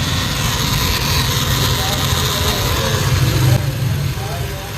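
A Toyota Fortuner engine with a faulty PCV valve runs steadily up close, a continuous low rumble with a faint chattering rasp. Someone talks over it throughout.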